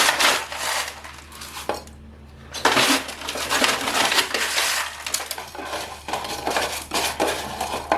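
Potting soil being stirred together with pumice and moss for a well-draining cactus mix, giving close, loud gritty crunching and scraping in repeated bursts with a short pause partway through.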